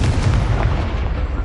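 Incendio, a fire spell cast in the video game Hogwarts Legacy, bursts out as a loud, heavy, roaring blast that stays dense and booming for over a second with no voice over it.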